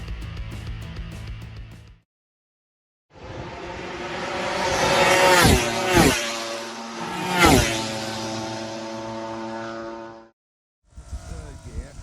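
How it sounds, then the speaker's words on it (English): Fabio Quartararo's MotoGP bike at the 2023 Portuguese GP warm-up sputters and cuts out, a harsh engine roar broken by two sharp stumbling dips before dropping away, with brief silences around it and a burst of noise at the end. "You're hearing the bike cut out of Fabio Quartararo"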